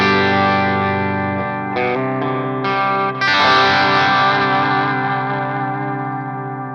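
An Ibanez AZ Prestige electric guitar on the bridge pickup in a semi-clean, slightly gritty tone with light reverb: a few sustained chords ringing out, then a louder strummed chord fading slowly.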